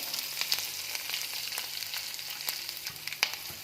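Green chili and curry leaves fry in hot oil with a steady, moderate sizzle and faint crackling spits, heard up close with no voices.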